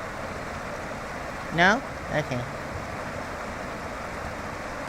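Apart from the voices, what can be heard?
fast-running Arkansas River under a bridge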